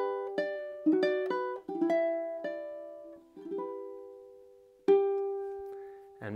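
Ukulele picks out a plucked melodic phrase from a song, single notes ringing clearly in a slow, halting rhythm with a pause before a final sustained note, close and quiet, with no voices.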